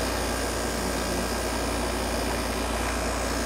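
GoldStar window air conditioner running with its compressor on, a steady, dense whirring drone with a low pulsing hum, close and constant throughout with no pauses.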